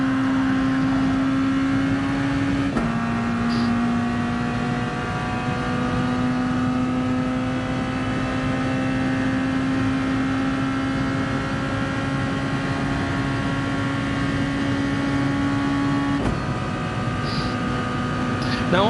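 Le Mans race car engine held at full throttle in a racing video game, a loud sustained steady drone with a single gear-shift dip partway through, running continuously with no voice over it.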